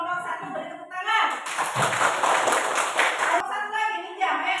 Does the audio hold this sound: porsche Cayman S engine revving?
no